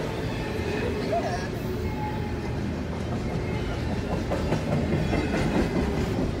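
A BNSF freight train rolls past near Camp Rd in Moreland, Georgia, a continuous close rumble with rhythmic clickety-clack of wagons over the rails, while a voice talks faintly in the background.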